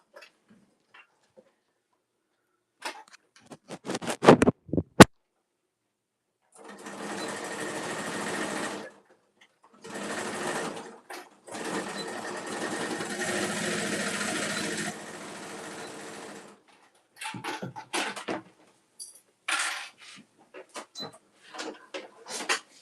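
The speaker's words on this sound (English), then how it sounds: "So I'm going to go over and sew these corners." A sewing machine stitches the corners of a cosmetic bag in several close, steady runs of rapid whirring, with a few seconds of clunks and handling before and short stop-start bursts afterward.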